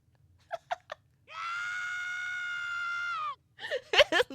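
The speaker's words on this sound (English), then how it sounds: "I didn't think he would scream like that." A male character in an otome video game screams: brief vocal yelps, then a long sustained loud scream of about two seconds, followed by short gasping cries.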